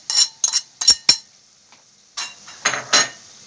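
Chopped onions going into a pan for chicken shawarma: a series of sharp, close metallic clinks and scrapes of a utensil on the pan, in quick bursts separated by brief silences, with no talk.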